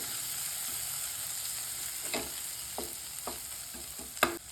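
A spoon scrapes and stirs through spiced tomato and onion in a frying pan, several short strokes over a soft, steady sizzle.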